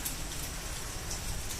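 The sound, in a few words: rain falling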